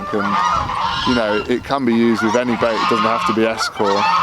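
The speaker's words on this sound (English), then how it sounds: "Sorry about the birds." Geese honk loudly and repeatedly outdoors beside a winter carp-fishing lake, their harsh calls overlapping a man's speech and drowning it out at times.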